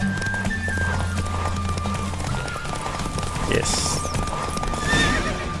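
A horse gallops in a race in The Witcher 3, a fast rhythmic clip-clop of hooves under rushing air and game sound, with a whinny and a voice speaking briefly.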